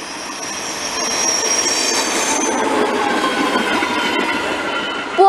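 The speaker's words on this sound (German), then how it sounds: "Es war eine Baureihe 155." A train hauled by a class 155 electric locomotive passes close by with steady rolling rumble, squealing wheels and faint clatter of cars, loud throughout with no voices.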